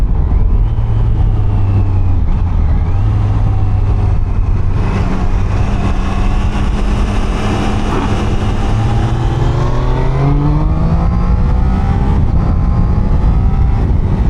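A Triumph Daytona 660 motorcycle rides at speed, its engine loud and close, climbing in pitch through quick quickshifter gear changes, each shift a brief dip before the revs rise again, over steady wind noise.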